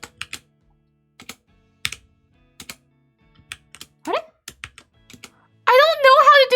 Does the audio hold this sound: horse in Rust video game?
no